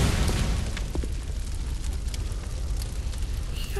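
Loud, dense bursts of machine gun fire in the game Bloodborne, a continuous rattling roar that fills the whole stretch with little letup.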